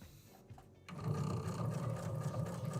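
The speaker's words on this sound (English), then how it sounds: "This is just a basting stitch to kind of keep everything together." A sewing machine runs a long basting stitch through a T-shirt table runner, starting after a brief pause and then whirring steadily and loudly up close with an even mechanical rhythm.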